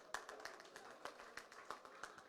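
Sparse, scattered hand claps at a press club welcome reception, a few distinct claps at irregular intervals, faint and fairly close, with no crowd swell.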